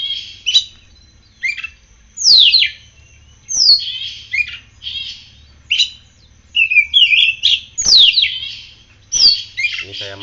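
An oriental magpie-robin sings loud and close in bright, varied bursts of sweeping whistles, chirps and harsh squawks, separated by short pauses and heard alone.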